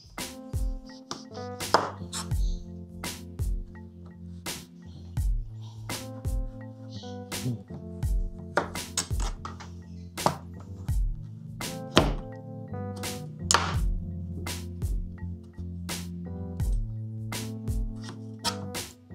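Steady knife chopping on a board, repeated sharp thunks in an uneven rhythm, close and fairly loud, with no talking.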